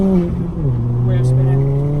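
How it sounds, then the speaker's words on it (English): A Ford Fiesta ST with a stage 4 Revo turbo kit spins its wheels, the engine holding a loud, steady drone that rises and then settles lower, with a brief high tire-like squeal partway through. "Wheel spinning."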